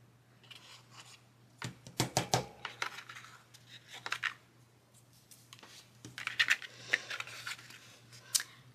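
Paper being cut with scissors while making a DIY paper pencil case, with close, crisp snips coming in clustered bursts and scattered handling rustles between them, no voices.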